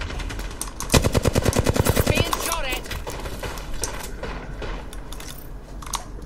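Automatic weapon fire in the game Apex Legends, from a 2020 with a 100-round magazine, comes as a rapid, loud burst of about a dozen evenly spaced shots, followed by quieter game noise and faint distant shots.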